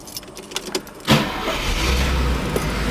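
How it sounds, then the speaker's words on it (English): A 1977 Mercedes 450SLC engine cranks briefly and catches, then settles into a steady low idle that carries on close by after a few light clicks and knocks at the start. "I'll just show you how the car starts"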